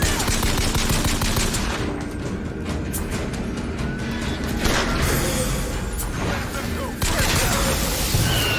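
Rapid gunfire from shooting in a VR video game, sustained bursts of automatic fire with heavy booms and crashes layered on top, loud and continuous throughout.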